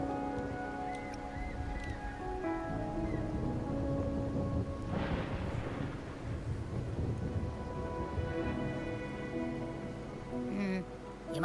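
Steady rain pours during a storm in Wuthering Waves, with a rolling thunder rumble swelling in the middle and faint tonal music layered beneath.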